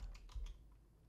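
Keystrokes on a computer keyboard during Windows setup, a short burst of about four quick taps close by, then quiet.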